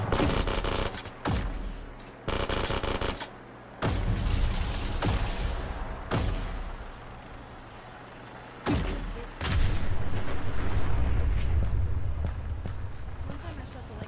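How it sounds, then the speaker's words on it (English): Fallout 4 combat with bursts of heavy gunfire that cut in and out in loud clusters, then a long sustained rattle of shots, with a voice speaking over parts of it. "Opening fire!"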